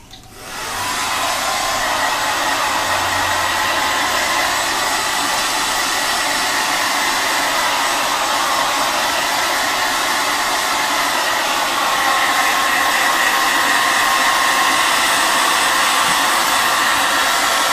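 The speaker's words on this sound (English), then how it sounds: "Now I'm going to start the blow dryer." A blow dryer on a low setting switches on and runs steadily while drying a Persian kitten, a loud, even whooshing hum that holds for the whole stretch.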